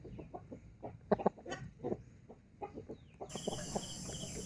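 Backyard chickens give a run of short, uneven clucks and squawks, close by and moderately loud, with a steady hiss coming in toward the end.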